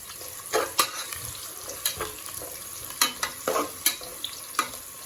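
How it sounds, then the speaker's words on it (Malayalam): Cardamom and cinnamon sautéing in a pan, with a steady low sizzle broken by sharp scrapes and clinks from stirring at irregular intervals, close and fairly loud, no voices. "ഇതൊന്ന് കുറച്ച് നല്ലോണം വഴറ്റിയിട്ട് ഏലക്കായും കറാമ്പട്ടി ഇട്ടിട്ടുണ്ട്"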